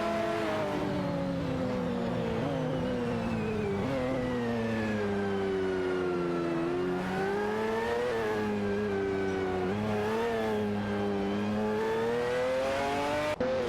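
Race cars from a racing video game, engines droning and revving with rising and falling pitch as they speed along, a sustained layered whine from several cars at once.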